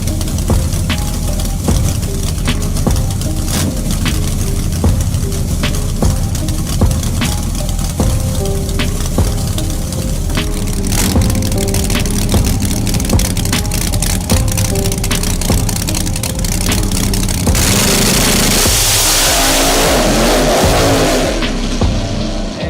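A drag car with a large 4.6 four-cylinder motor runs a Friday night test pass, its engine roaring loud and sustained with rising revs and gear changes, then fading into broadband rush near the end.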